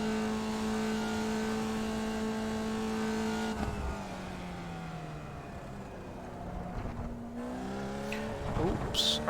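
A Formula Vee race car in the iRacing sim drones steadily, then drops pitch on a clumsy clutch downshift and climbs again as it revs back up.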